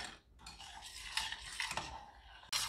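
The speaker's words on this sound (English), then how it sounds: "we've been stirring constantly" A utensil stirs boiling ribbon fudge mixture in a pan, with soft, uneven scraping and clinking against the metal and a sharper knock near the end. No one speaks.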